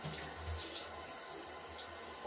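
Tap water runs over a three-year-old child's hair to rinse out conditioner, making a soft, faint, steady splash and trickle.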